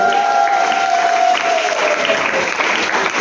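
A church congregation applauding during a Sunday service, a dense, sustained wash of clapping with a sung or held tone running beneath it, close and loud throughout.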